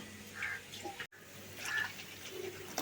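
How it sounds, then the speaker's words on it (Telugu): Water pours into a pot for tamarind rasam, a steady splashing and trickling that runs close and fairly quiet, broken by a brief silent gap before the flow resumes. "నీళ్ళు పోసుకుందాం సరిపడా,"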